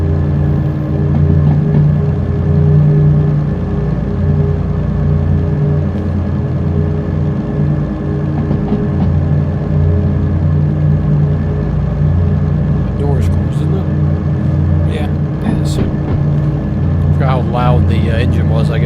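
A diesel locomotive engine in the Derail Valley train simulator, played in VR while picking up speed in poor visibility. It gives a loud, steady, low droning rumble that runs throughout, with brief higher clanks and squeals near the end.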